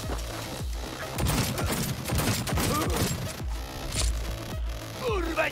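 Rapid bursts of gunfire from the video game Cyberpunk 2077, played on Xbox Series X, crackle in dense volleys throughout, with booming impacts underneath and a short lull before more shots.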